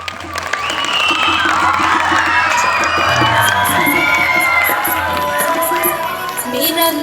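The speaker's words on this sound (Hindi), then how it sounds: "हौसला अफजाई करेंगे तालियों के साथ" Children at a school Grandparents Day celebration cheer, shout and clap for Haryanvi dance performers, a loud sustained crowd roar with whoops and high voices filling the whole stretch.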